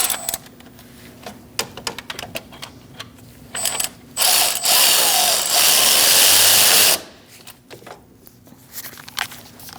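Ratchet clicks snugging a bolt on a 2002-2006 Toyota Camry 2.4L water pump, scattered sharp clicks followed by a sustained loud burst of mechanical whirring for a few seconds, then quieter clicking.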